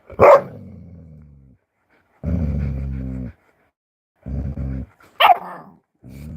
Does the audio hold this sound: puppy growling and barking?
yes